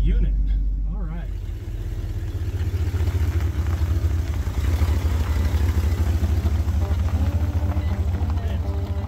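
An old Ford farm truck idles on its own in low gear, a steady close rumbling engine with a clattering pulse after a brief quieter start, with a voice heard briefly over it.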